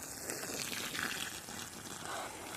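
Water trickles steadily from a watering can into planting holes dug for peas in garden soil, a soft continuous pour at close range.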